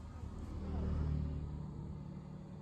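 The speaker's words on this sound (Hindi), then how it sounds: "सबसे पहले गाड़ी अपने आप स्टार्ट कैसे होती है वो मैं आपको दिखाता हूँ" A Maruti Suzuki Swift engine restarts on its own through the idle start-stop system: a quiet low rumble that swells and settles into a soft idle, heard from inside the car.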